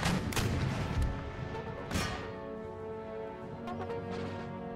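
Artillery volleys boom in an Empire Total War battle, two heavy broadband blasts about a second apart followed by a lingering rumble of distant cannon fire and battlefield noise.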